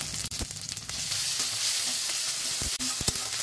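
Chopped onion, dried chilli and ginger-garlic paste fry and sizzle in a hot pan for a Bengali katla fish head and pui shak dish, a steady close hiss broken by stirring scrapes, with no talking.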